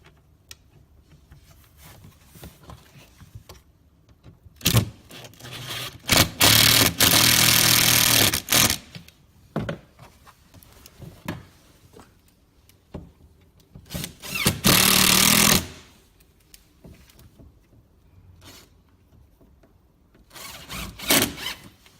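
Power screwdriver fastening a hot tub's front cover back on, several short loud whirring bursts separated by quieter handling clatter.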